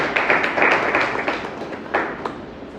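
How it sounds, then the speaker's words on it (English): Audience applause greeting a speaker as he takes the stage at a talk event, a steady wash of clapping from a crowd with a few sharper claps standing out, moderately loud and fading slightly near the end. "Please give him a big round of applause."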